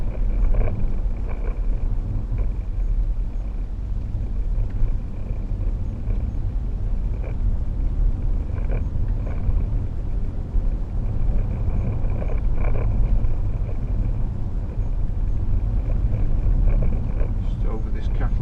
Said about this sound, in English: This bit of the road's pretty bumpy, so just bear with us.